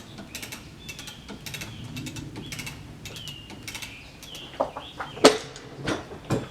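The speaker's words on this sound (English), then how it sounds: "Still lifting that carriage up." A ratchet mechanism lifts a sawmill carriage while a big oak log is being milled, making irregular clicking and creaking that grows louder and sharper toward the end.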